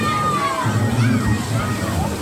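People swim and splash in a crowded resort swimming pool in Patiis, San Mateo, Rizal, with continuous sloshing water mixed with a busy hubbub of voices nearby.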